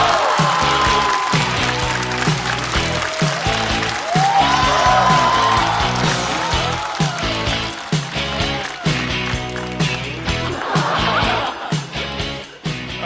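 Applause and crowd noise at a stand-up comedy show welcome a comedian onto the stage, loud at first and mixed with thumping music beats, thinning toward the end.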